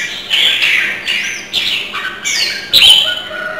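Decoy songbirds call up close in a series of bright, short chirps and whistled notes, several separate bursts in under four seconds with brief gaps between them.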